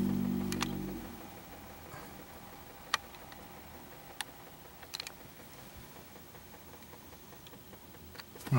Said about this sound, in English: I don't know what that ticking is